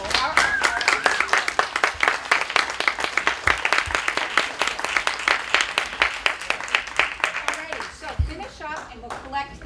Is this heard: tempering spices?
no